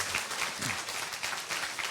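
A crowd at a Korean TV show event gives steady, moderate applause, a continuous patter of many hands clapping at middle distance, without any talking.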